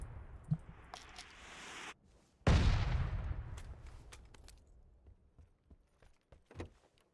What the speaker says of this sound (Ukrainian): З мінометки десь стріляють тут